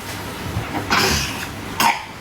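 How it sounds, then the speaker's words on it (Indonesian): A child coughs twice in short, close bursts separated by about a second, with faint background noise and no talking. "batuk ditutup, pinter"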